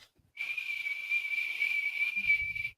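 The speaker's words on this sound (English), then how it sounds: "I'm hearing a loud, like right now, a whistle or a whine or a whatever just going on." A constant loud, high-pitched whistle or whine, a single steady tone that starts abruptly and holds unbroken for over two seconds, alone in an otherwise quiet room, with a brief low rumble near the end.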